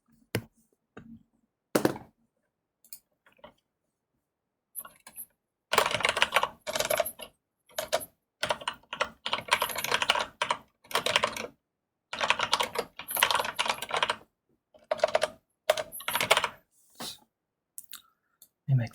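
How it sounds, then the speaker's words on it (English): Typing on a computer keyboard in bursts of quick clicking keystrokes separated by short pauses, close and fairly loud, with no speech. "if I don't have to write it, I'll just type it"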